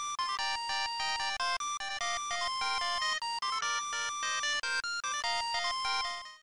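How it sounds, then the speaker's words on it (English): Chiptune ringtone playing the Metal Gear Solid theme from the Japanese version of Metal Gear Solid 2: a bright, beeping electronic melody with quick stepping notes, loud and continuous for several seconds before cutting off. "the Japanese version got an exclusive MGS theme chiptune ringtone"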